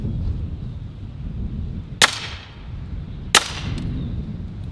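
A .30 caliber Western Sidewinder air rifle fires twice at a 2x4 board, each shot a sharp, loud crack with a short ringing tail, spaced about a second and a half apart over steady outdoor background noise.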